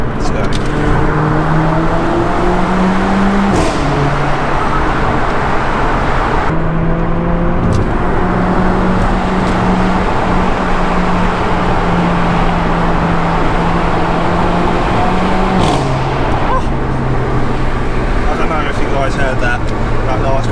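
A Mercedes-AMG A45 with its exhaust resonator removed accelerates hard inside a tunnel. The loud engine roar climbs in pitch, breaks at gear changes, then climbs again, echoing throughout.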